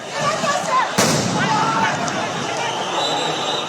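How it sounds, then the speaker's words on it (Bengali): A sharp loud blast from police sound grenades and tear gas shells fired at protesters in Dhaka bursts out amid a noisy crowd, followed by chaotic background commotion and shouting. "আন্দোলনকারীদের ছত্রভঙ্গ করতে সাউন্ড গ্রেনেড টিয়ারশেল ব্যবহার করে পুলিশ"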